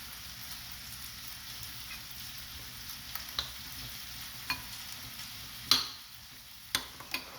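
Chorizo frying in a pan, a faint steady sizzle under a few scattered sharp knocks and taps as it is tossed and stirred, no talking.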